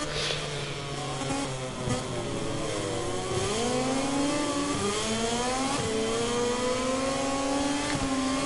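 KTM MotoGP motorcycle engine in a racing video game, rising and falling revs with whining gear-shift sweeps, loud and continuous with no voices.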